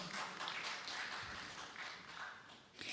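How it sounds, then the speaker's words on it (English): An audience applauds after a question on fundamentalist ideology, a faint, steady wash of clapping heard at a distance that swells slightly near the end. "I like the applause"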